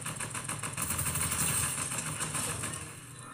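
Vehicle engine droning steadily while driving in Fortnite, a continuous mid-pitched motor hum with a slight swell in the middle, game sounds layered on top.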